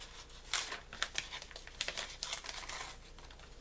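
Scissors snipping through paper at a planner desk, a string of crisp rustling cuts and crinkles, close and moderately loud, with no voices.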